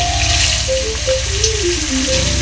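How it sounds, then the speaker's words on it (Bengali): Snakehead fish coated in turmeric frying in hot oil, a steady close sizzling hiss that runs throughout, with a wavering tonal melody playing over it. "তেল গরম হয়ে গেছে, একে একে আমি মাছগুলো দিয়ে দেবো। সুন্দর করে লাল লাল করে মাছগুলো ভাজা করে নেব।"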